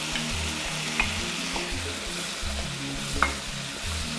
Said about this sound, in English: So now I'm going to add my mushrooms.